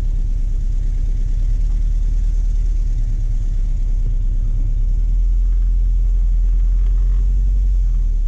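A 2003 Ford Focus engine held at full throttle drones loud and close, a heavy sustained low rumble with steady pitch and no speech over it.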